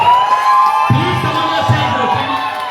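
An audience at a talk cheers and shouts loudly, with a few sharp bursts that may be claps beneath a high whooping din of many voices.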